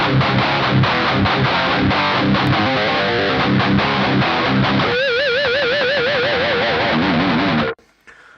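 A heavy, distorted electric guitar chugs through a fast down-picked metal riff matching double-kick drums, then ends on wailing pinch harmonics with wide vibrato before cutting off abruptly.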